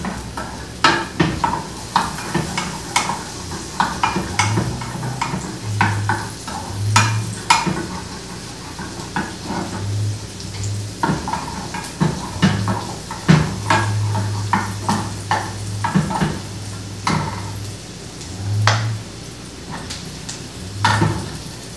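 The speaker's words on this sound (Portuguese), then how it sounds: "Só murchar mesmo o alho e a cebola" Garlic and onion softening in a pan of seasoning for canjiquinha with dried beef and pumpkin, with a steady low sizzle under repeated clinks and scrapes of a spoon stirring against the pan, close by and no voices.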